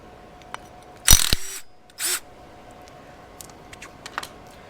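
A ratchet works the nut off a Mazda Miata NA/NB motor mount, giving a loud close clatter around the one-second mark and a second burst just after, then a few faint metallic ticks.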